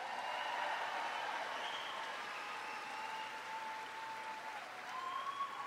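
A large outdoor Labor Day crowd gives a country singer a round of applause at a presidential rally in Cincinnati, a broad sustained wash of clapping and cheering with a faint whistle-like tone drifting above it.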